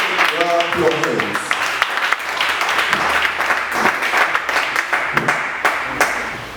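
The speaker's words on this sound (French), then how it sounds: "Applaudissons très fort. Clap your hands." A church congregation bursts into sustained, dense clapping during a French-English sermon, loud and continuous throughout, with a voice briefly heard over it at the start.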